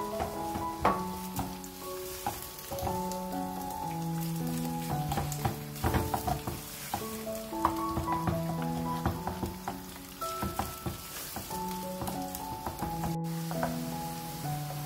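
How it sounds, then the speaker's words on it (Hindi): Chopped onions sizzle and crackle steadily in heating oil for spinach and meat curry, a continuous frying hiss beneath louder background music with sustained tones. "जब तक ऑयल गर्म हुआ है हम इसमें प्याज डाल देते हैं ताकि साथ साथ प्याज भी पकने लग जाए।"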